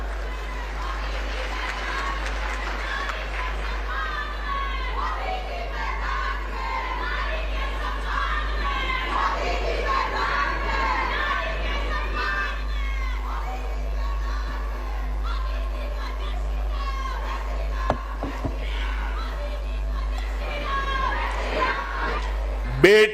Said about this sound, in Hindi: सबसे ज्यादा तालियां हमारी बहनें बजा रही है